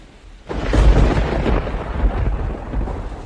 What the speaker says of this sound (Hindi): तूफान और तेज हो रहा है